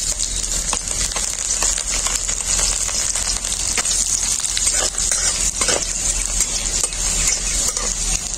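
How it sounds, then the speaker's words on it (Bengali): Chopped garlic sizzles in hot oil that already holds dried red chillies and black cumin, a steady loud hiss with occasional stirring scrapes, close up and without talking. "এরপর দিয়ে দেব কুচনো রসুন"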